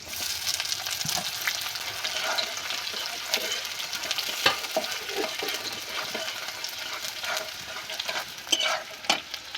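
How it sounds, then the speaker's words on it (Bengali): Chopped garlic and onion fry in oil while being stirred, a steady close sizzle with scattered crackles and soft scrapes of a spatula in the pan. "রসুনটা খুব সুন্দর মতো আমি নেড়ে তেড়ে ভেজে নিয়েছি এবার আমি পেঁয়াজটা দিয়ে দেবো"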